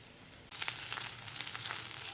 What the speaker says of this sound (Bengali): পেঁয়াজ আর লঙ্কাটা একটু ভাজা ভাজা হলে এর মধ্যে আর কিন্তু আমি আলুটা দিয়ে দেবো